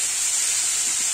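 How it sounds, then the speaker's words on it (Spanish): Pelibuey sheep viscera frying for an outdoor family lunch of grilled meat produce an unbroken, loud, close hiss of hot fat, with no talking over it. "Bueno, las vísceras están friendo."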